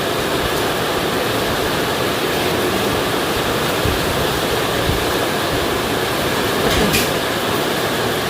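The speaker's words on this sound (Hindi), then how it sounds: "इतनी तेज बारिश हो रही है।" Heavy monsoon rain pours down in a steady, dense wash of noise with no break, loud and close, with no talking over it.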